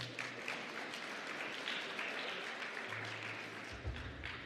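Faint, distant applause from a conference audience for a government minister, a thin patter of clapping in a large room with low hum underneath.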